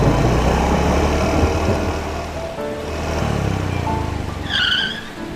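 A vehicle speeds along a rainy road, heard as a loud, continuous engine roar and hiss of wet rushing traffic. A short tonal squeal rises near the end, and no voices are heard.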